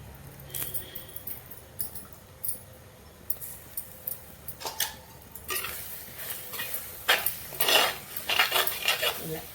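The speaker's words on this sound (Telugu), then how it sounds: "ఇలా కారం ఉల్లిపాయకి పట్టేదాకా వేగనిద్దాము." Onions and chili powder fry in a pan with curry leaves, with a spoon clinking and scraping against the pan in irregular bursts that grow busier toward the end, over a faint sizzle.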